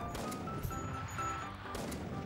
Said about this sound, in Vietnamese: Ai ai cầm súng bắn mình hoài vậy